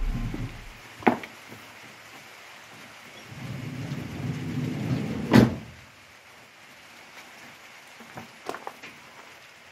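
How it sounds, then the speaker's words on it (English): Rain falls outside a minivan during a thunderstorm, with a muffled patter, a sharp crack of thunder about midway, a softer thud earlier, and a quieter rumble and light taps afterward. "Rain."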